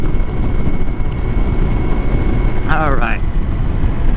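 Icebear Hawkeye 150cc scooter engine droning steadily at a high, even pitch, loud and close, while someone briefly speaks over it.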